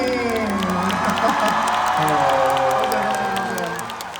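Concert audience at a live show, a dense wash of applause, cheering and whoops filling a large hall, steady and loud throughout.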